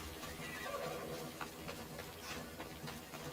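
A horse neighs in the video game Assassin's Creed Odyssey, a faint whinny with a few soft hoof-like knocks under steady hissing game ambience.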